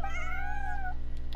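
A single drawn-out meow from Bonnie the cat in Genshin Impact, clear and close, rising slightly then falling over about a second before fading into a steady low background hum.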